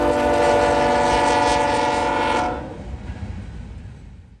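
A Norfolk Southern freight train with locomotives, including an ex-BNSF dummy unit, rolls past loudly in Alliance, Ohio, a dense rumbling roar with a blaring horn tone that cuts off and leaves a lower rolling rumble of cars.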